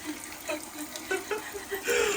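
Warm running water pours steadily while mud is washed off outdoors at a glamping site, a continuous splashing flow with faint knocks and no talking.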